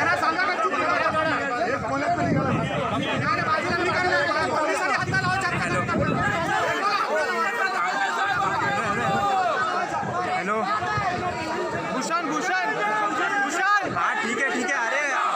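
Rival party workers massed at Rajkot fort, a tense crowd of many overlapping voices shouting and chanting slogans, a loud, continuous babble with surges of raised cries.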